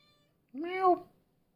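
A single close meow from a kitten, rising then falling over about half a second, with quiet around it.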